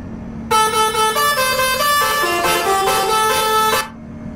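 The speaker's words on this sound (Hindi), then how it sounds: "अच्छा हॉरन है भाई।" In Euro Truck Simulator 2, a customized luxury bus driving in Iran blasts a loud, melodic multi-note horn for about three seconds, the pitch stepping through a short tune before stopping.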